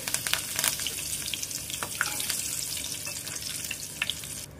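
Flattened rice (poha) fries in hot oil, a close, continuous crackling sizzle with scattered sharper pops and stirring scrapes.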